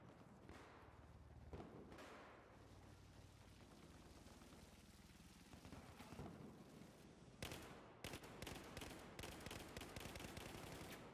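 Gunfire in Battlefield 4 plays at low level, with scattered shots early on giving way to a denser run of sharp, rapid cracks near the end, all set against a steady background rumble.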